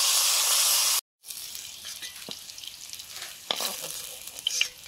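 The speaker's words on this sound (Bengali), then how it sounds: "আলুগুলো ভেজে নিচ্ছি" Potatoes frying in oil in a pan and being stirred, cooked ahead of a Bengali fish curry. A steady close sizzle with scraping stir strokes cuts out for a moment near the start, then returns with sharper crackles and no talk.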